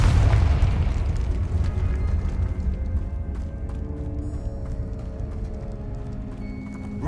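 A Confringo fire spell bursts in Hogwarts Legacy, a loud booming explosion up front that decays into a long crackling, rumbling tail with scattered game effects.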